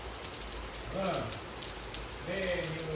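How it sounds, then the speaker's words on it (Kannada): Heavy rain pours steadily at a home during a Varamahalakshmi festival gathering, a continuous dense hiss with a voice speaking briefly over it. "ಫುಲ್ ಜೋರ್ ಮಳೆ ಬರ್ತಿದೆ"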